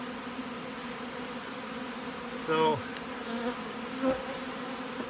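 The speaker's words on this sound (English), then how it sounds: "Right full of bees." A packed honey bee hive colony drones in a steady close buzz, with someone speaking briefly once over it.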